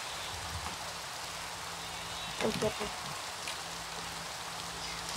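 Steady rain falling in the Minecraft video game, a constant even hiss throughout, with players talking and a brief louder burst of voices and laughter midway.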